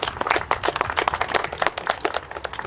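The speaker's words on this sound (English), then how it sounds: "I might give you a round of applause too." A small group gives a brief round of applause at an outdoor farming field school, quick dense clapping close by for a few seconds.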